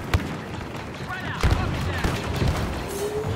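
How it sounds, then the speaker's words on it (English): Rapid bursts of blaster fire in Star Wars Battlefront II, several sharp zapping shots in quick succession amid a battle, with a voice talking over them. "How they like a little blaster fire."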